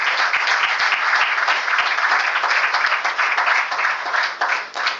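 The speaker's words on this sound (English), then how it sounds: "Let's give a huge round of applause for the legacy that we witnessed today" Audience applause fills a stock exchange listing ceremony for a photovoltaic power company's IPO, a steady dense wash of many hands clapping at full strength for five seconds, easing slightly near the end.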